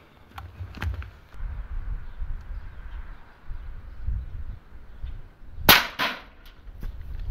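A .25 caliber Avenger airgun fires a 30.86 grain Barracuda pellet at a coconut outdoors, one sharp crack standing out midway over low rumbling background noise and faint scattered clicks, with no talking.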